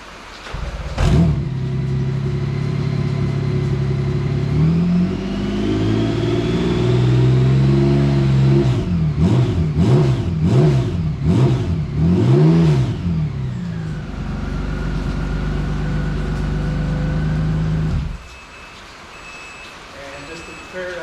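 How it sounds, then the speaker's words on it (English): Honda Goldwing motorcycle fitted with a SharkRoad modified exhaust, its engine idling loud and close, then blipped through a series of quick rhythmic revs before settling back to idle and cutting off near the end. "Here's the SharkRoad exhaust."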